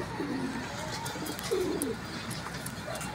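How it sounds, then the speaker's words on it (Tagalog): Pigeons cooing together outdoors in Sariaya, Quezon, low soft coos rising over a steady background murmur, with faint voices in the distance. "Sama-sama yung mga ibon."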